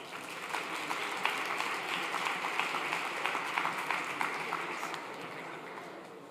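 An audience applauds a speaker at the inaugural day of a vocational training event, steady sustained clapping from a crowd of many hands filling the room, loud and even throughout with no voices over it.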